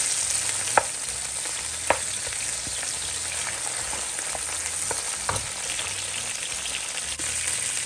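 Seasoning sautés in a pot for Jamaican jerk cabbage, giving a steady close sizzle and fry with occasional soft clicks of stirring, no talk.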